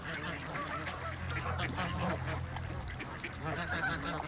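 A curious, hungry white duck calls from close by at a pond on a spring nature walk, giving faint, raspy honking quacks over soft outdoor background noise. No one speaks.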